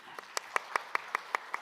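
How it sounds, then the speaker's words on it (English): Audience at a plenary session on smart, sustainable cities applauding, a short run of about eight evenly spaced, fairly faint claps rather than a full crowd roar. "Another round of applause"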